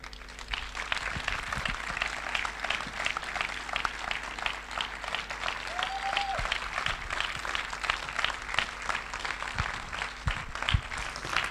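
Sustained applause from an audience honoring the Executive Star Diamonds at a DXN recognition ceremony, dense steady clapping filling the hall throughout with a faint tone briefly rising above it.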